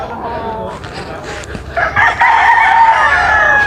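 Rooster crowing on a Filipino gamefowl farm, preceded by some clucking and farm noise, then a loud, close, sustained crow filling the second half.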